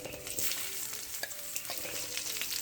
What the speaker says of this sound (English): Just going to stir fry that up and let the flavors cook out of it.